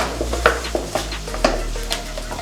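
A wooden ladle stirring okpa, a Bambara nut flour mixture, in a pot, giving soft scraping knocks in an uneven rhythm of about half a dozen strokes over a low steady hum.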